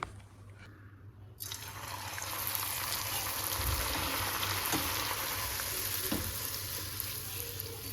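Poori dough dropped into hot oil in a home kitchen: a steady, dense sizzle and crackle of deep frying fills the clip after a brief quieter opening, with a few faint clinks and no talk.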